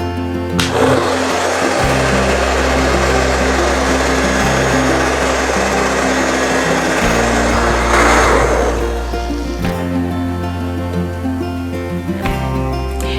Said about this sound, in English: use a little bit of heat from my blow dryer